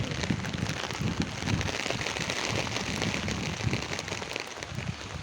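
Steady rain pours outdoors in an open area during a storm, a dense, even patter of drops on surfaces throughout, close and moderately loud with no voices.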